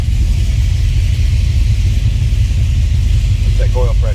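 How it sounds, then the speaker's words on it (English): The V8 engine of a 1968 Chevrolet Camaro idles loudly with a low, steady rumble, and a voice comes in briefly near the end. "Go ahead and fire this up, see here it run."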